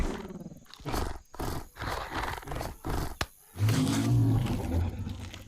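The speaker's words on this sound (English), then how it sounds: "There is no dialogue, other than grunts and irritated roars." Grunts and irritated roars from the animated series Primal come in several loud, growling bursts separated by short pauses, followed by a longer roar, with no dialogue.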